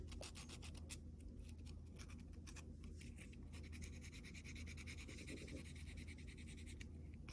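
Fingernails lightly buffed with a buffing pad before gel nail extensions, a faint, steady rapid scratching rub that continues throughout with a low background hum, no talk.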